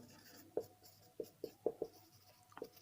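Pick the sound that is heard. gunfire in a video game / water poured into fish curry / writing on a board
writing on a board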